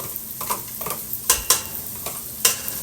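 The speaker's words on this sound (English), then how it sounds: "I melted some tallow, and I'm going to get some onions in there. We're going to saute these up." Onions sautéing in melted tallow give off a steady low sizzle, broken by a few sharp scrapes and stirs of the pan at irregular intervals. No one speaks.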